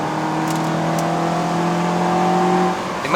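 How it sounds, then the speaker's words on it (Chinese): A 2016 Mazda 3 sedan's engine and intake drone steadily while driving, with a sustained tonal hum that holds for a few seconds before easing off. "你们听到那个引擎的声音吗？"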